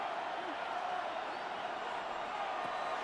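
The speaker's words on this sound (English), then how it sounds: "This crowd turning up the decibel level." Steady, dense crowd roar from a stadium in a Madden NFL Cowboys vs Jets game, rising for a third-and-long play, with a continuous wash of cheering and no clear breaks.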